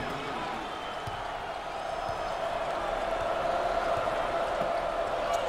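Crowd at an NCAA March Madness basketball game between Providence and Kentucky giving a standing ovation, a broad steady roar of applause and cheering that swells slightly and holds throughout.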